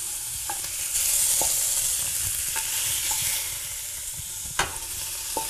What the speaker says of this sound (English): we'll go ahead and add our tofu in there